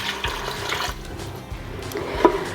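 Water poured into a pot as part of a doubled batch of blackberry cobbler filling, a continuous splashing, running-liquid sound of moderate loudness with a brief clink near the end.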